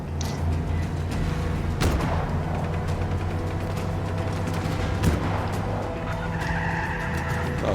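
A car in Just Cause 3 skids under a hard handbrake pull, a loud sustained tire scrub over a steady engine drone, with a couple of sharp impacts mixed in and no speech.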